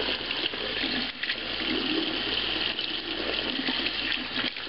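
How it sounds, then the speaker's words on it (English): A LifeProof iPhone case is rinsed under a running sink tap, with a loud, close, continuous gush and splatter of water that shifts slightly as the case moves in the stream. "sink here, rinse it off."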